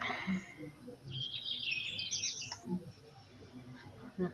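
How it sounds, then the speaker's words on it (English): Faint birds chirp and tweet in a quiet background, with a brief burst of calls in the middle and a few scattered quiet noises. "Back Clay, are you in a bird sanctuary?"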